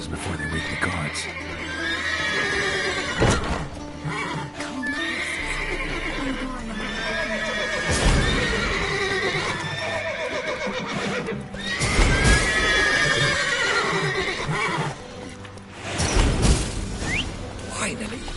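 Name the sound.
horses neighing in video game The Witcher 3: Wild Hunt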